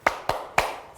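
Children clap out a tepuk semangat cheer in a kindergarten program: three sharp, close claps in an even rhythm, each ringing briefly before the next.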